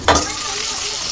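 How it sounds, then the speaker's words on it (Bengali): Onion, cumin, ginger and garlic paste hitting the pan for village-style beef curry bursts into a loud sizzle, then settles into a steady close frying hiss. "এখন দিয়ে দিলাম পেঁয়াজ বাটা, জিরা বাটা, আদা বাটা, রসুন বাটা"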